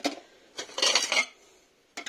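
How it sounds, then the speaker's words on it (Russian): Plates clink and clatter against each other in a few short bursts as they are moved around nearby, with quiet pauses between. "Переложить тарелки."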